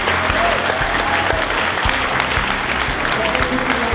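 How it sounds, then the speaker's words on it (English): Steady, loud applause from an audience at a Spartan Race World Championship athlete panel, dense clapping sustained throughout without a break. "A round of applause for them as well."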